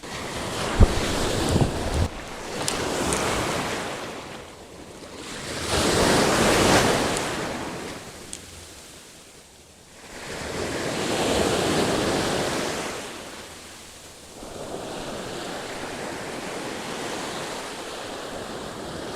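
Strong gusts of wind roar across the microphone in slow surges on a fishing trip by the sea, mixed with crashing surf nearby, rising and falling in waves.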